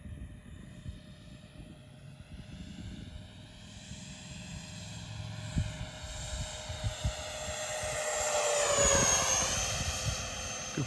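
An RC model MiG-29 jet makes a steady turbine whine with a high tonal pitch that swells and shifts as it flies past near the end, over outdoor wind and handling noise.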